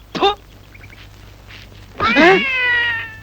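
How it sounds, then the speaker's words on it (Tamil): A cat gives two meows, a short sharp one first, then after a pause a longer, drawn-out cry, close and clear against a quiet background. "பூனை குறுக்கால குதிக்குது"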